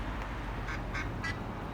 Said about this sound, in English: see, mother duck said quick, quick, quick, quick.